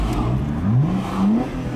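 A car pulling away, its engine rising in pitch in two short revving surges, close and fairly loud, with no voices.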